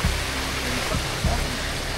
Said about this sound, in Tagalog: Ang lakas ng ulan, te.